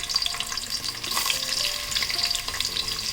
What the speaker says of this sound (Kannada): ಕರಿಬೇವು ಸಿಡಿದ ಮೇಲೆ ಈಗ ಈರುಳ್ಳಿ ಹಾಕ್ಕೊತಾ ಇದ್ದೀನಿ.